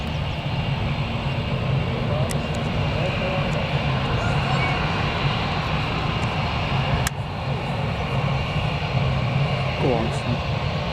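An airplane aborting its landing and going around at Newcastle Airport roars loudly and steadily as a continuous jet engine drone, with a couple of faint clicks along the way.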